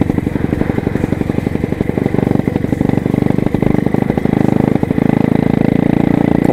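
A Yamaha FZ16 190cc motorcycle engine fitted with a 30 carburetor runs steadily up close, a loud, even, rapid thrumming pulse with slight rises in pace.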